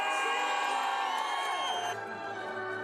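A large crowd gathered before giant screens at the Louvre in Paris on the 2017 presidential election night cheers for Emmanuel Macron's arrival. The whoops and shouts form a loud, continuous roar layered with a tonal background.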